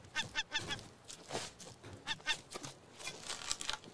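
Goose-like honking bird calls from the video game Raft, several short repeated honks in bursts over a busy game background, moderately loud and fairly close.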